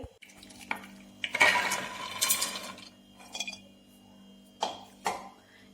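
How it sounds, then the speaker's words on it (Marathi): Chickpeas tipped into a pressure cooker after draining: a few short bursts of clattering and rattling against metal with light clinks, spread across a quiet kitchen background. "हे छोले आता कुकरमध्ये शिजण्यासाठी टाकत आहे"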